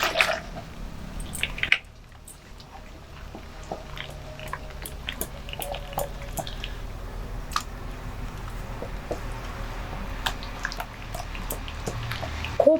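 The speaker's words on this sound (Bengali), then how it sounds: "খুব ভালো করে কিন্তু বেসনটা ফাটাতে হবে" Gram flour batter thinned with a little water for potato chops is beaten steadily in a bowl, giving a continuous soft wet slapping and ticking texture, close and moderately loud, with no talking.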